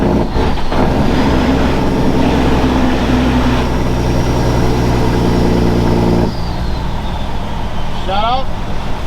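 A 700 HP straight-piped Kenworth W900 truck rumbles loudly with a steady, pulsing engine-brake drone that holds for several seconds before easing off, while someone talks over it from inside the cab.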